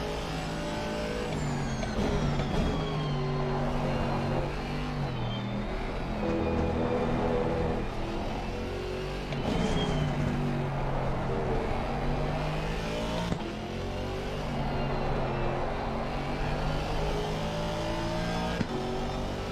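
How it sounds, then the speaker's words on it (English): A GT3 race car engine in the racing game Assetto Corsa Competizione roars continuously, climbing through the revs, briefly dropping at gear changes, and climbing again. The engine note is loud and steady throughout. "listen to this car, guys. I'm just in love with the sound of this car"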